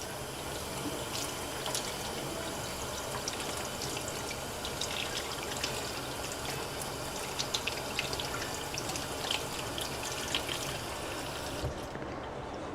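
Running water pours steadily from a tap, with faint splashes and clinks as a paint brush is rinsed beneath the stream; it stops abruptly at the end.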